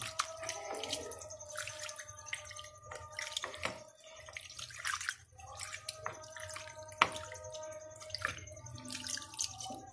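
Fresh homemade paneer curd is rinsed in water, giving soft drips, small splashes and light handling sounds in an uneven, intermittent pattern with a quiet hum under them.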